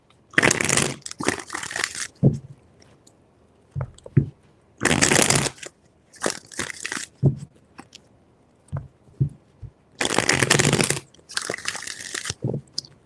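Tarot cards are shuffled in several quick riffling bursts, each a crisp flurry of flicking, separated by short pauses and soft handling taps, close up.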